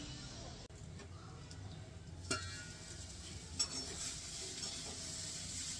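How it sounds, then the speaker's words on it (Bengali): Boiled soybeans frying in a pan give a soft, continuous sizzle with occasional stirring scrapes and light clinks, fairly quiet and close, with faint voices in the background. "সোয়াবিন একটু সিদ্ধ করে ভাজা করে নিচ্ছি"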